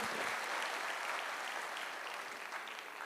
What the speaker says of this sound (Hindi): उसका शुक्रिया अदा मन ही मन कर लेना, या ताली बजाओ तो आपकी मर्जी